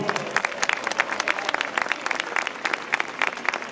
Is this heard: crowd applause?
yes